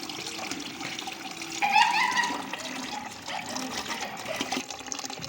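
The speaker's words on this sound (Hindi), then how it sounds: "तो ये पूरी की पूरी मैंने खोल दी, पानी निकल रहा है।" Water gushes steadily from a fully opened, leaking household tap with no rubber ring and a loose fitting, a continuous splashing rush close by that swells briefly partway through.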